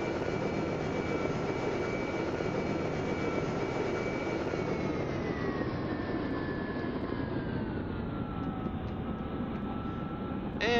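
A helicopter landing in the Minecraft Immersive Vehicles mod gives a loud, continuous engine drone and whine that stays close throughout while its pitch slowly sinks, with no talking.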